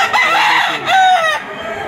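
Rooster crowing at a live-bird market, a medium-size white claret gamecock two years old, giving two close, loud crows in quick succession with clucking sounds around them.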